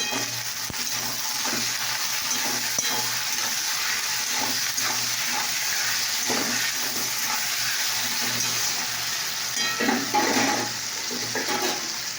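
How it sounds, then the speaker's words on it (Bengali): Cut bitter gourd and potatoes frying in a pan while being stirred, a steady sizzle with repeated soft scraping strokes and a low hum beneath, no speech. "এই করলা আলু কাটা আছে, এটা দেখো এবার একটু নাড়াচাড়া করে দেবো"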